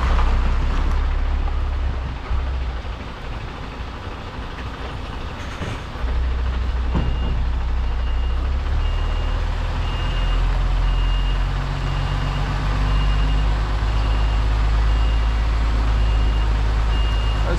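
A truck backs up to park in front of a trailer at a loading yard, its reversing beeper giving a steady repeating beep over a loud, continuous diesel engine rumble close by, with no talk.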